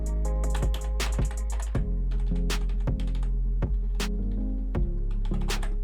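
Fast, busy typing on an EvoFox Warhammer budget membrane gaming keyboard, with dense clacky keystrokes and a few sharper, louder hits, close up and continuous with no talking.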